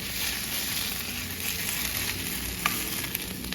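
Green part of a vegetable sizzling steadily as it cooks down in a pan, a constant bright frying hiss with a couple of faint stir clicks, no talking.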